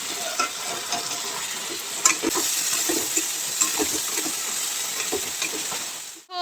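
Spice paste for mutton curry fries in oil, a steady close sizzle with a broad hiss, stirred now and then with scraping, continuous and loud throughout.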